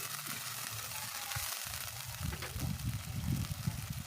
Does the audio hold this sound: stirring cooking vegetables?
yes